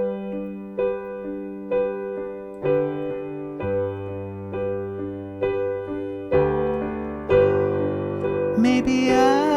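A piano plays the intro of a song, steady sustained chords with a moving low bass line, each struck chord ringing out in slow succession, close and clear with no voice.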